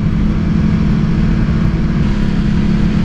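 A 2017 Suzuki GSX-R750 sportbike's engine drones steadily and loud as it leans through a corner, a continuous low hum blended with heavy wind rush and no voices.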